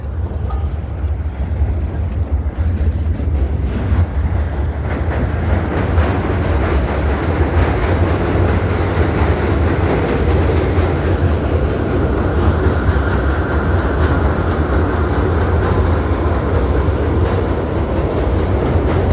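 A train rumbles past steadily, a continuous low roar of wheels on track that stays loud and even throughout, with no voices.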